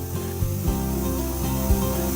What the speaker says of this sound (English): hold one can of Carlington pre-spray and start spraying from the back of the aircraft, keeping the can at arm's length